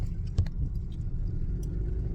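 A car bumps over a speed bump on a road during a North Carolina to South Carolina road trip, a single low thud rising briefly out of steady engine and road rumble.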